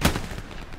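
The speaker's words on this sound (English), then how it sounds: "There's an MG right here somewhere." Machine gun fire in the World War II shooter game Hell Let Loose, a single short, loud burst that fades quickly into a rumbling tail.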